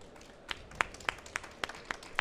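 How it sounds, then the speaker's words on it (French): Sparse, faint applause from a small audience at a presentation on future products management: about eight separate, evenly spaced claps sounding at a distance over a quiet room. "On peut vous applaudir hein,"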